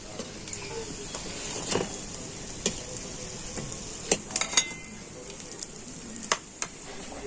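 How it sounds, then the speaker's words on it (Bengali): Layered snacks fry in oil with a steady moderate sizzle, broken by several sharp clinks and taps of a utensil against the pan. "আর এইভাবে সমস্ত নাস্তাগুলো আমি ভেজে নেব।"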